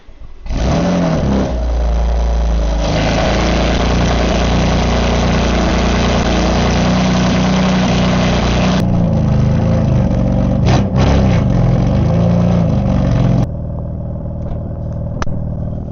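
A BMW M4 with its exhaust flap closed sits idling loud and close, rising into sustained revs after a few seconds, then dropping back to a lower idle near the end.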